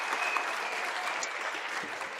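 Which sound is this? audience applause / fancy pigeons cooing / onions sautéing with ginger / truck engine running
audience applause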